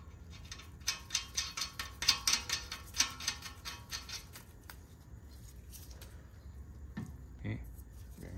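A hand ratchet spinning lug nuts onto a 2018-2021 Subaru WRX wheel hub during a brake rotor and pad install: quick clicking bursts in rapid runs, fairly close, fading into quieter shop noise.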